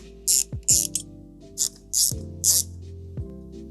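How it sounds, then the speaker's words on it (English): A ratcheting driver backs out T15 Torx screws from a Jeep headlight retaining ring, giving several short, close, bright bursts of clicking with brief pauses between them. "So we're going to remove those 4 screws now"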